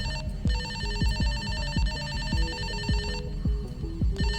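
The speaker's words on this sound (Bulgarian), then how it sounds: "звъни телефона" A telephone bell rings in a steady repeating pattern, loud and close, over a busy low rumble of thumps and movement, with the ringing cutting off briefly before resuming near the end.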